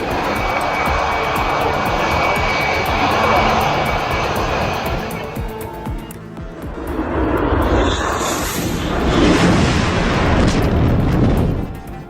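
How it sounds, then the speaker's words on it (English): Turkish F-16 fighter jet on a low landing approach, a loud roaring engine rush that dips briefly and then swells into a harsh blasting roar as it passes close overhead. "The fighter jet flexes its power with wind blasts so fierce, it looks like it could blow everything on the ground away."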